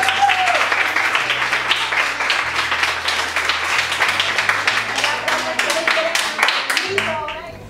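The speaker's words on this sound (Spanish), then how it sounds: "Bueno, otro aplauso." Children and young people at a social centre English-learning event break into loud, dense applause that fills the room, with a voice speaking and a few pitched tones over the clapping before it tapers off at the end.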